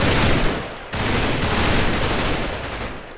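Dense machine gun fire in a combat video game, a loud continuous fusillade of rapid shots with a brief break near the start before the burst resumes.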